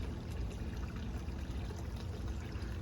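Filtered water from an aquaponic system drops through three holes back into a fish tank, making a faint, continuous trickling and splashing with no talk.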